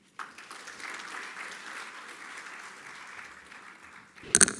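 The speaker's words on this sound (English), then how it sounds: "Come on, a huge round of applause one more time for Mr. More" Sustained applause from an audience at a citation ceremony and annual report release, a steady dense wash of clapping lasting several seconds before a sharper burst of louder claps at the end.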